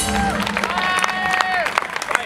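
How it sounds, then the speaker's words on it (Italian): Crowd applause and cheering at a hard rock cover band's live club show, clapping mixed with shouts and babble over lingering amplified tones, moderately loud and close. "Grande Fulvio, un applauso!"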